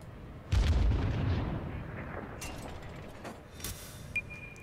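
Warship main battery firing in the naval combat video game World of Warships, one heavy booming salvo with a deep rumbling tail, then fainter distant shell impacts and a short pop near the end.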